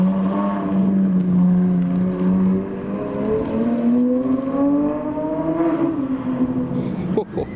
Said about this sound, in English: the 812 has got its roof down and he's heading out for a drive